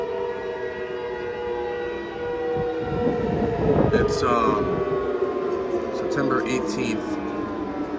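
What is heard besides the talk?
civil defense sirens in Ningbo on September 18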